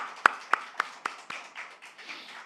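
A handful of sharp, separate hand claps from a church congregation honoring its choir, spaced about a quarter second apart and thinning into softer, scattered pats, with no voices over them.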